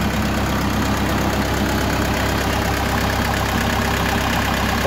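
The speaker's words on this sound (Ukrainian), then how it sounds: "Трактор на 40 кінських сил." An Orion RF404 40-horsepower tractor engine idles close by with a loud, steady, slightly knocking diesel rumble that stays even and continuous throughout.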